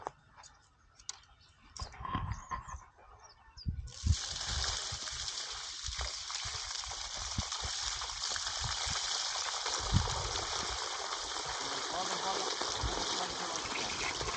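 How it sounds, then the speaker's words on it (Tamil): Buckets of water are poured onto saplings by a lake: scattered clicks and a voice come first, then a steady, close gush of pouring water runs on to the end. "இன்னும் 2 ஊற்றிடுறேன், இன்னும் 2 பக்கெட் ஊற்றிடுறேன்."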